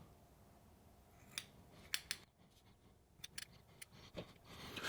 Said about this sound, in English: Now we're gonna go ahead and trim up these wicks